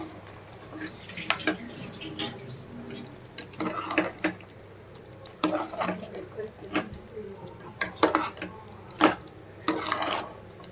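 Mutton curry with tender tamarind leaves being stirred in a pot, a spoon scraping and clinking against the metal in irregular bursts of moderate loudness, with soft background noise between strokes.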